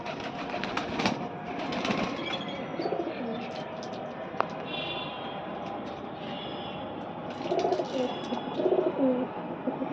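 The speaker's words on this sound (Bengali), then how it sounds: "অনেক কবুতর আছে এখানে।" Pigeons cooing on a sixth-floor rooftop garden, several soft coos over a continuous background rumble with occasional clicks, no speech.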